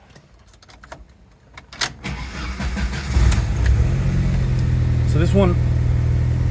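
Original keys jingle, then a 4-cylinder Jeep Comanche cranks and fires up, settling into a steady, close idle while someone speaks briefly over the start.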